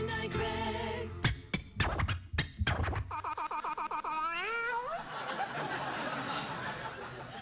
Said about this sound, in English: What a lovely cat that is, Cole.